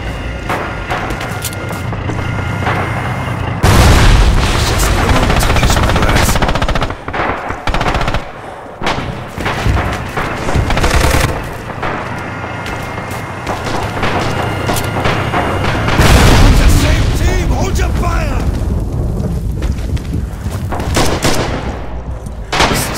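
Tank cannon fire and bursts of machine-gun fire in the Stalingrad battle game Red Orchestra 2, with loud, dense, rattling volleys and heavy booming blasts that come in waves and fill the whole stretch.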